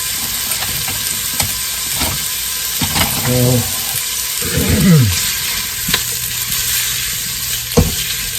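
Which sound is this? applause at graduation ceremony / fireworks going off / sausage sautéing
sausage sautéing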